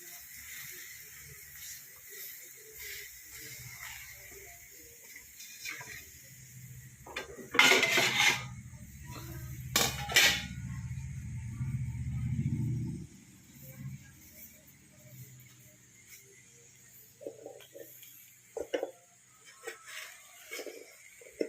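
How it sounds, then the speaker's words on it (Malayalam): A metal vessel is set over a tamarind-leaf and colocasia-leaf wrapped fish thoran in a quiet kitchen, giving two sharp metallic clanks near the middle amid faint rustling and scraping. "എന്നിട്ട് വേറൊരു പാത്രം കൊണ്ട് മൂടി വെച്ച് കൊടുക്കാം."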